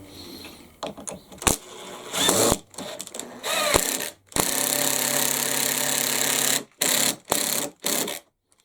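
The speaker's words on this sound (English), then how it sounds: "just using the impact driver today" Bursts of an impact driver whirring in short and sustained runs, driving screws into wood, loud and close, with brief pauses between, ending in a few quick rattling pulses.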